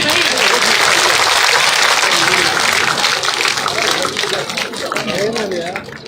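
Crowd applause at a village political rally, a dense steady clapping that fills the clip and tapers slightly toward the end, with voices talking over it.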